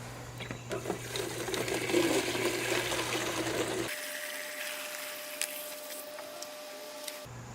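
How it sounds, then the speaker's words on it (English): Rainwater is poured into a milk jug as a steady rushing, splashing stream for about four seconds, then it drops to a quiet hum with faint trickles. "So let's fill it with some rainwater"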